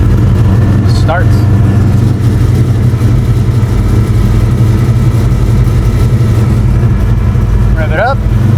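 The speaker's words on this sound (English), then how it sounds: "Rev it up." A carbureted Ford Fairmont engine runs loud and close, a dense steady low drone with only slight swells as it is revved, and brief squeaky chirps near the start and end.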